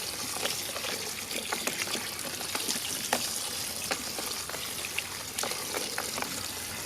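Water runs and trickles over freshly harvested beets, a continuous close splashing flow with scattered sharper drips and gurgles and no talking.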